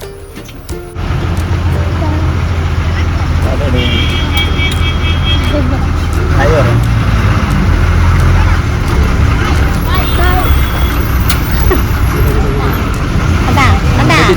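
Congested road traffic in a tourist-crowded jam near Lakkam waterfalls on the Munnar to Pollachi route, a steady low engine rumble from idling and creeping vehicles throughout, with a background hubbub of voices.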